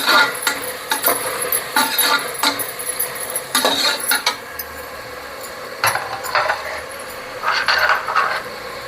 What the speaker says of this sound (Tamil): இந்த மாதிரி வதக்கி விட்டுக்கலாம்.